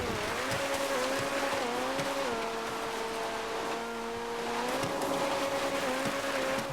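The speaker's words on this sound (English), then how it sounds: "I absolutely hate and despise this car." Carbonizer car driving in the GTA Online video game, heading up Mount Chiliad: a steady, loud engine drone that dips and rises in pitch as gears shift, with faint tire noise beneath and no talking.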